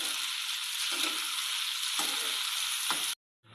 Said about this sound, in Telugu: ఇప్పుడు ఇందులో టమాటాలు కూడా వేసుకుంటున్నాను. ఇవి కొంచెం ఫ్రై అవ్వాలి.